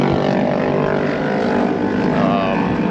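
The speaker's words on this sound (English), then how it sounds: "As you can probably hear, the motorcycles going by." Motorcycles running practice laps at a MotoAmerica bagger race in New Jersey, in rain and wind, make a loud, steady engine drone that holds throughout, with no distinct passes standing out.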